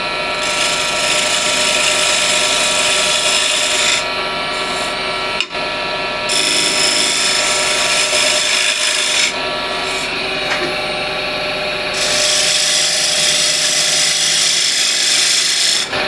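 A wood lathe spins while a ball gouge shapes the inside of a turned piece, producing a loud continuous whirring hum with a steady scraping rasp that swells and eases as the cut changes.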